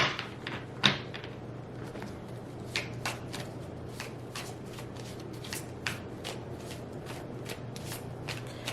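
Tarot cards being shuffled by hand, a steady series of crisp riffling slaps and flicks repeating roughly every half second, close and clear with no talking.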